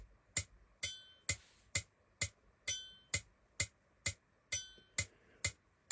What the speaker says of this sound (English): And now if we want the bell sound